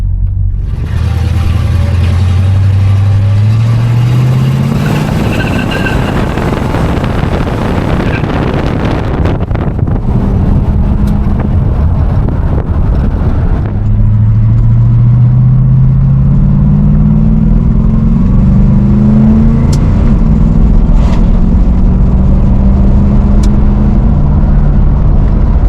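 A 1968 Plymouth GTX with its 440 Super Commando V8 pulls hard through the gears, the exhaust note rising in pitch, dropping on the shift, then climbing again. It sounds loud and close, with steady wind noise over the cabin.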